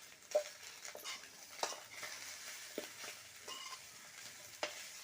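Fish roe fries in a pan, a soft steady sizzle broken by repeated scraping and clinking as a utensil stirs and turns it, fairly quiet and close with no voices.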